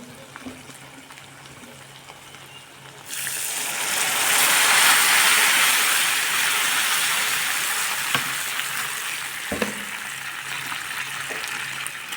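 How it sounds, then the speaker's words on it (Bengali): Hot water hits spice masala that is being fried for a Bengali fish curry, setting off a sudden loud, rushing sizzle after a quieter stretch of low frying, then a long bubbling hiss that slowly fades. "আমি দিয়ে দেবো গরম জল।"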